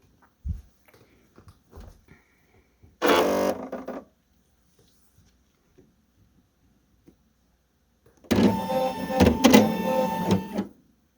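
A Brother PE800 embroidery machine starts up and runs in two loud mechanical bursts, a short one early and a longer steady run near the end, with faint handling clicks in the quiet between.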